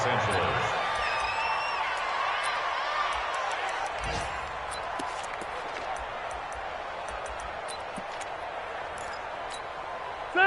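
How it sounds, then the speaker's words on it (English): A large stadium crowd in an American football video game roars in a steady, sustained wash of cheering after a late touchdown, loud and continuous throughout. "Listen to this crowd now."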